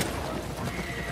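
A horse neighs loudly in the video game The Last of Us Part II, a short close whinny with hoof clatter mixed in.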